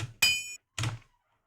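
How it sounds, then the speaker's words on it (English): An anvil hit sample: two sharp metallic strikes, the first ringing briefly with a bright clang, the second duller, followed by silence. "an Anvil Hit. So it'll pretty much sound like this."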